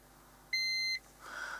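A multimeter sounds a single steady continuity beep lasting about half a second, clear and close, while probing a component lifted out of the power circuit of a Roberts R737 radio, then a soft rustle follows.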